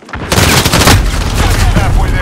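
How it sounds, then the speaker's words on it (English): Cluster strike explosions in Call of Duty: Modern Warfare, a very loud, dense barrage of rapid blasts and rumbling booms that merge into continuous heavy roaring. "Enemy cluster strike incoming."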